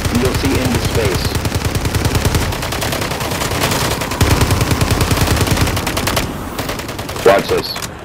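An STG44 rifle with the Infinite Cosmos blueprint fired in a video game, sustained rapid automatic fire that keeps up a dense, loud rattle for several seconds before breaking into a few scattered bursts.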